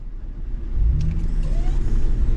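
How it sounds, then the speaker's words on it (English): A car engine in a driving game, a sportcross in the rain, rumbles low and then rises to a louder, fuller idle as it turns over, close and continuous. "I'm going to try turning on and off the car."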